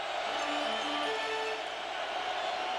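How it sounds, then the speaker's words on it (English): A packed college football stadium crowd roars in a steady, loud wall of cheering at Oklahoma's home game against Bowling Green in 2004, distant and sustained without clear breaks. "The crowd louder than it's been for a while."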